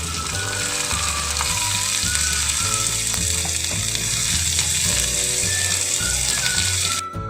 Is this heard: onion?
yes